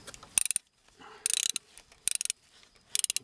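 Ratchet wrench loosening a 16 mm bolt while a car serpentine belt is being replaced, four close bursts of rapid clicking separated by short pauses.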